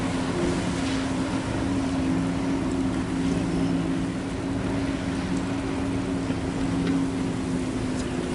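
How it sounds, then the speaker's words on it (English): A jet ski's engine drones steadily out on a river at East Palatka, Florida, at some distance, a continuous low hum with faint background noise. "Guy out there on a jet ski."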